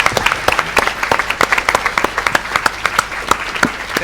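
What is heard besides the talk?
applause for the panel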